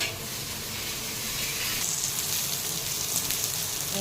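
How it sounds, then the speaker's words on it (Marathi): Green chillies roast in a pan over low heat for a rustic village-style thecha, producing a steady, close, dense crackling sizzle that runs throughout without pause. "मिरच्या भाजून घेते हिरव्या मिरच्या लसूण घेतलेला आहे सोलून"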